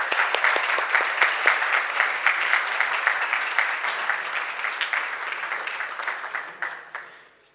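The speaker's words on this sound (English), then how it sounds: "Let us give an applause to them" A large audience at a conference gives sustained, dense clapping. It holds steady for several seconds, then tapers off and fades to quiet at the end.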